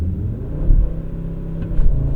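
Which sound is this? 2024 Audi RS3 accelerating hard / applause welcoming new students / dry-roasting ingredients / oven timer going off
2024 Audi RS3 accelerating hard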